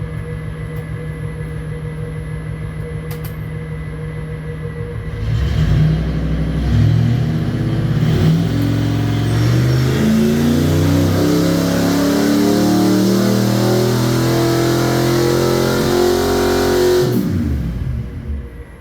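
A Ford 5.0 small-block V8 on a dyno idles with a steady rumble, then climbs through a long, loud rising rev that holds and wavers for about twelve seconds before cutting back down.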